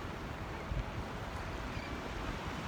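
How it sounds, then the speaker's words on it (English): Ocean waves wash onto a crowded beach in a steady broadband rush mixed with wind buffeting the microphone, with no talk. "There's the waves."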